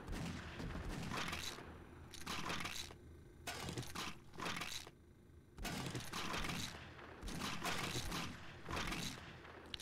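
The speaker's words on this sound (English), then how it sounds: "Someone's firing a magnum outside." Repeated magnum gunshots fired outside in the survival game 7 Days to Die, arriving as loud bursts of several cracks at a time with short quiet gaps between them, with no talking.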